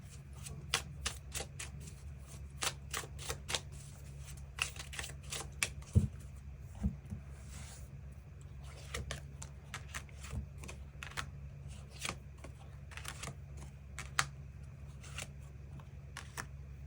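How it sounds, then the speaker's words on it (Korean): Tarot cards are shuffled and drawn, heard as faint, close, irregular bursts of riffling and snapping card flicks with quiet gaps between them. "카드 뽑아보도록 하겠습니다."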